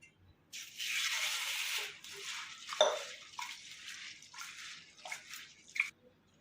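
Sabudana tapioca pearls being rinsed in a pot of water: bursts of sloshing and swishing with a few drips and light clinks of the pot, no talk.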